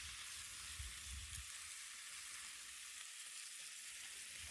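Food sizzles in a pan at a campsite while boondocking in nature, a steady close frying hiss that runs through the whole stretch with no talking.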